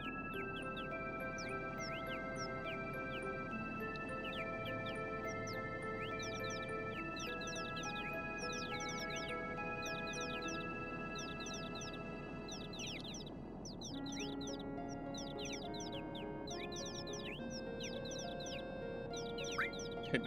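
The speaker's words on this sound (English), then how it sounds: "I hear the birds, but how do I get the bird?" Chirping bird calls from the Final Fantasy VII video game repeat in quick rhythmic bursts over steady sustained game music, moderately quiet and continuing throughout without speech.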